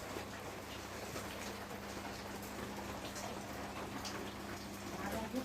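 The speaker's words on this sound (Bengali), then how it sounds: "এখানে খুবই বৃষ্টি হচ্ছে।" Heavy rain falling outdoors in a rural yard, a steady dense hiss of drops at low level throughout, with faint background voices.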